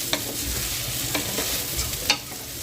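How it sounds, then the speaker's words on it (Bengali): Ivy gourd (kundru) frying in oil in a pan and being turned over, a steady soft sizzle with a few faint scraping clicks of the spatula, no voices. "যেগুলো একটা সাইড ভাজা হয়নি সেগুলো উল্টে দিচ্ছি"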